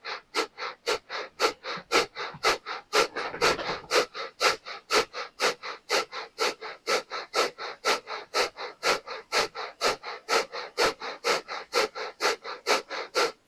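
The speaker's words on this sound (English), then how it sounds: "Equal inhale and exhale through the nose, pulling the navel toward the spine with every exhale." Rapid, rhythmic nasal breath of fire in a pranayama exercise, with equal sharp inhales and exhales repeating steadily at about two per second, close and clear, no talking.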